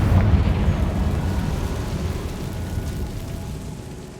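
A Confringo fire spell explodes in the Hogwarts Legacy video game, a loud roaring blast at the start that trails off into a sustained, rumbling wash of noise without any speech.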